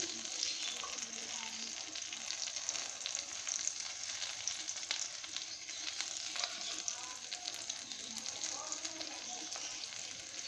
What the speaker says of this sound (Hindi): आँच को धीमा रखें ताकि हमारा जो एग है वो अंदर से ही पक सके